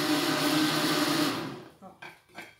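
A blender whirs loudly while mixing milk pudding batter with starch, then cuts off after about a second and a half, followed by a few brief spoken words.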